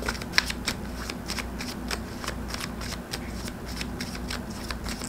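Tarot cards are shuffled by hand, giving a fast run of crisp riffling flicks that repeat steadily at close range for several seconds, with no talking.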